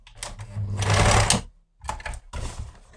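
A sewing machine stitching waxed fabric whirs in quick bursts, running hard for over a second, pausing briefly, then starting up again in shorter runs.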